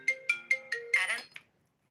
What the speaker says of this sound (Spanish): me estaban llamando por teléfono